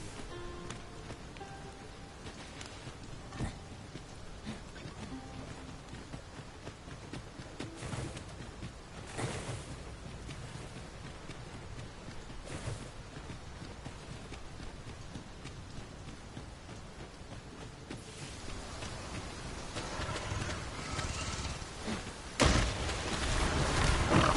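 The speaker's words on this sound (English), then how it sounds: "Must we do battle in this dreadful downpour?" Steady heavy rain pours throughout in the video game Dragon's Dogma 2, with scattered louder splashes and thumps and a rising rumble near the end.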